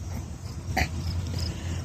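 A dog travelling with a hitchhiker lets out one short, close whimper over a steady low background rumble.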